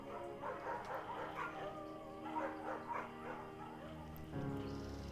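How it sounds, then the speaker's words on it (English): A dog named Bucket in Firewatch gives soft yips, whimpers and short barks at low volume, set against a quiet, tonal background with a faint voice. "Bucket's a good dog"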